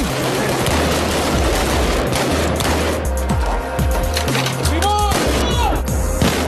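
Live-fire gunshots from Yassam police units training with real ammunition on a Jerusalem street, sharp cracks and bursts over constant loud background noise.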